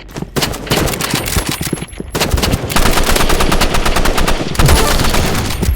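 Rapid machine gun fire in a Roblox game crackles in dense, loud bursts with brief pauses between volleys, sustained across the whole stretch.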